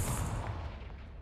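Confringo fire spell explosion in the Hogwarts Legacy video game, a single close, heavy blast that sizzles out and fades within about a second.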